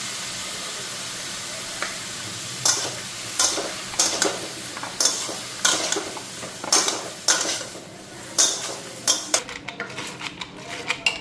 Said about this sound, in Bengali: ওইদিকে ডালটা ঘুটনি মেরা নিলাম বুটের ডাল